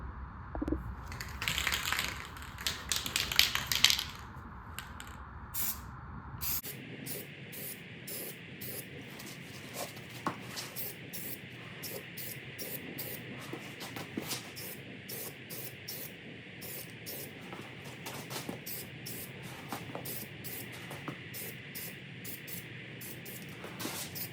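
Aerosol spray can of metallic graphite paint applied to trailer rims, giving long steady hissing bursts with short gaps between them, close and fairly loud, preceded by a brief louder rattle and spray.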